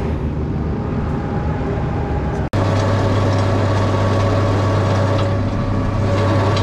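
A tractor running during a rotary harrow test on a potato field, its engine droning loudly and steadily, with a brief dropout partway before the throttle rises into a heavier, sustained roar.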